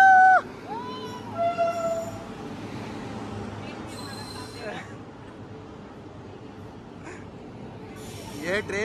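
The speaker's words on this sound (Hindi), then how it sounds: "तो फाइनली हमारी ट्रेन आ गई है भाई, ये रही ट्रेन।" A passenger train pulls into a station platform on an Indian rail trip, with brief high wheel squeals and a short horn-like tone over steady rumbling, while people talk nearby.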